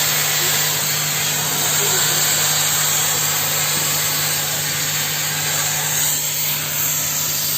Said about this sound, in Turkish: Kaynak yapması için kaynak ağzı açıyor şu anda.